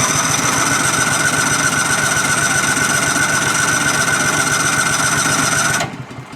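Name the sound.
Cub Cadet XT2 lawn tractor EFI engine running rough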